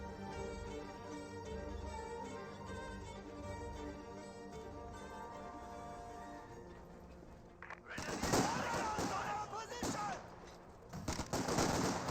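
81mm mortars fire in a Company of Heroes 2 battle: a stretch of sustained tonal game sound gives way to loud, dense blasts and crackling bursts of gunfire that carry on to the end.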